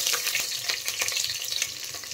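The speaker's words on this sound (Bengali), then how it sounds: "আর মশলা খুব ভালো করে ভাজা হয়ে গেছে।" Whole spices with curry leaves and a pinch of asafoetida fry in oil for tomato pulao, a close, steady crackling sizzle with frequent small pops and stirring scrapes, heard alone without voices.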